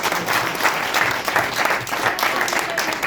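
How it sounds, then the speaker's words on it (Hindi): Strong, sustained audience applause fills a celebration gathering in Shimla, a dense steady wash of many hands clapping at close range with faint crowd murmur beneath. "जोरदार ताली के लिए।"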